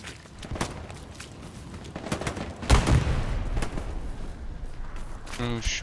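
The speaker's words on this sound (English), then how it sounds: "Shooting." Gunfire from the online World War II shooter Heroes & Generals, a burst of sharp shots near the middle of the clip with scattered distant reports before and after, over a steady game ambience.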